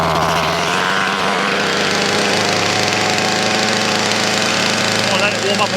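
Mountfield petrol strimmer engine running at idle after starting, a loud close buzzing two-stroke drone that holds steady throughout, with a voice speaking over it.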